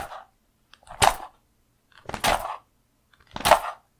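A sheet of thin paper slapped against a microphone as a foley splat: three sharp, close, papery whacks spaced about a second apart, each with a brief rustling tail, silence between them.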